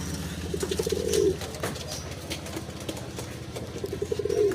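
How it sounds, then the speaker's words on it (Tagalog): Pigeons coo close by in soft, throaty, rolling phrases that repeat over a low background murmur. "Yan ang mga kalapate ng aking asawa."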